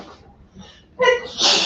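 A single sneeze up close: a short sharp intake, then an explosive, hissy burst at the end.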